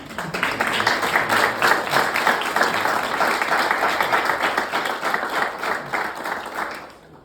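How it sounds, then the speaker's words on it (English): An audience gives veterans a long round of applause, a dense continuous wash of clapping that holds steady for several seconds before fading out at the end. "I would love for us to give you a round of applause."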